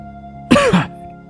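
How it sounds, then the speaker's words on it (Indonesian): A man coughs while eating at a meal table, a short harsh burst of throat-clearing coughs that is close and loud and heard alone. "terbatuk-batuk saat makan"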